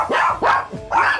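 A Maltese poodle mix dog in a room gives three sharp, loud barks close by, evenly spaced with brief pauses between them.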